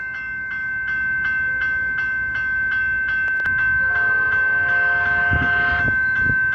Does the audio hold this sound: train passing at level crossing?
yes